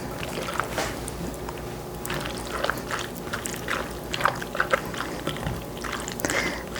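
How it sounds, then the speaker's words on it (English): Pasta salad stirred with creamy Italian dressing, wet squelching and soft scraping strokes at close range, repeating in an uneven rhythm. "and give it a good stir"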